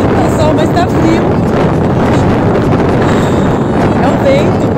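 A cold northerly wind blows hard across Cabedelo beach, a loud, steady roar buffeting the microphone throughout with no letup.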